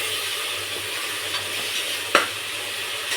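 Tomatoes sizzling and frying in a pan while mushroom biryani is cooked, a steady hiss with faint stirring scrapes and one sharp clink of a utensil near the end.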